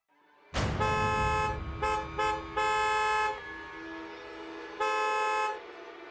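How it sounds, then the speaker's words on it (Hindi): A car horn blares close and loud in repeated honks: a long blast, two short taps, another long blast, then a final sustained honk after a pause. "तने पता है कितनी देर से हॉर्न बजा रही हूँ मैं?"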